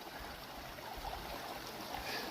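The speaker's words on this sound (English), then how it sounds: "What a nice creek though." Creek water flowing steadily in a quiet outdoor spot between Tucson and Flagstaff, Arizona, a soft continuous trickle and rush with no voices.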